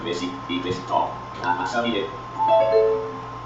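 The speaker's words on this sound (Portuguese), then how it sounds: "esse barulhozinho aí que você acabou de escutar, essa campainha, é indicando que o NVDA está instalado" A short electronic chime rings out clearly, a few bright tones, amid a faint background hum, signalling completed installation of NVDA screen-reader software on a computer.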